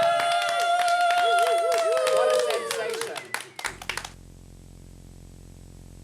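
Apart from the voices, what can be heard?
audience applause and clapping for Larry T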